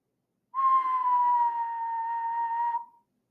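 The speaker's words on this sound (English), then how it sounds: "Then he gave a low, distinct whistle." A single sustained low whistle from a person, one steady clear tone held for about two seconds before trailing off into silence.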